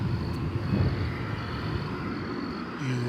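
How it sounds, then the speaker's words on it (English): A UPS cargo plane from Minneapolis–St. Paul arriving on a runway at DFW airport at night, a steady low engine rumble and roar heard from a distance, holding even throughout with no talk. "UPS Flight 561 from Minneapolis, St. Paul. And we're going to swing the big camera around and bring you that arrival on Runway DFW"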